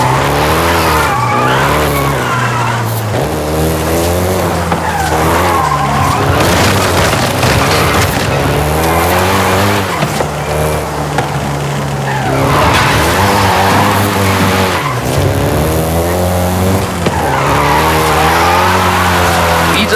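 A Volkswagen Golf GTI races hard in Forza Horizon 5, its engine revving up and down loudly while the tires squeal through long skids, continuous and close throughout.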